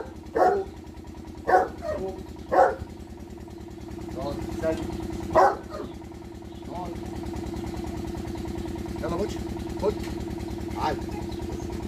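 A dog barks in short, sharp bursts several times over a steady low engine-like hum, with a person talking throughout.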